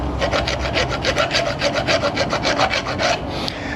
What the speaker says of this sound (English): you can file that part if you want